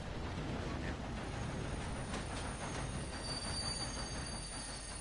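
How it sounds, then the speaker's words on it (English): A train ride in Red Dead Redemption 2: steady rumbling wheels and rail noise with occasional metallic squeals, moderately loud and continuous throughout, under quiet game ambience. "Wow, we caught the train."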